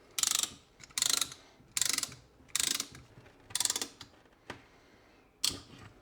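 A Torx tool turns the brake caliper piston back on a BMW 525d, giving quick repeated ratcheting clicks in a steady stop-start rhythm, close and fairly loud.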